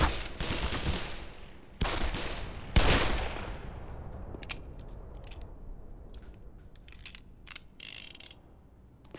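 Gunfire in the Black Mesa Half-Life remake: a loud opening burst of rapid shots, then several more sharp reports with mechanical clicks and clatter fading into scattered, quieter impacts, no talk.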